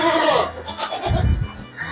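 Goats in a pen at a university animal science department farm give several short, close bleats, with faint background noise between the calls.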